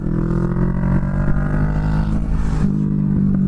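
Kawasaki Vulcan S, a 650 cruiser motorcycle, accelerating hard with a steady loud engine drone that climbs in pitch, briefly dips and rises again, close and continuous without talk.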